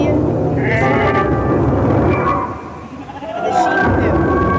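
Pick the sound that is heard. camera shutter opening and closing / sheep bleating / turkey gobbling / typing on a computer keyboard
sheep bleating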